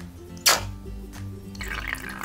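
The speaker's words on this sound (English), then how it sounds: "Squeeze the toy, and now they can squirt." A single quick, sharp squirt of water from a squeezed bath toy, followed by faint dripping and splashing in a quiet room.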